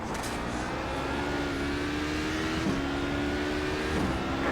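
A race car in the iRacing Le Mans Series, an HPD prototype at Le Mans, drones past alongside, its engine pitch rising and shifting with gear changes under steady road and wind roar.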